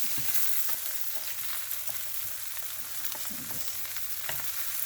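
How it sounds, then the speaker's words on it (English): Slices of Spam frying in a pan over medium heat give a steady, close sizzle with a few light scraping touches, no voices over it. "fry the other side. Just flip it over. I cook it on medium heat."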